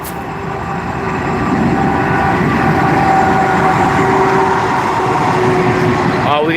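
Train rolling in along a rail line in the Lower Hudson River Valley, New York, a loud steady rumble and rattle of cars passing close by, with a faint squeal running through it.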